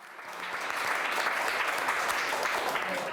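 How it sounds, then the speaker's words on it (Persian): An audience claps steadily for a girl, the applause swelling quickly and holding as a dense, even patter throughout. "حالا یه کف مرتب برای دخترمون بزنیم؟"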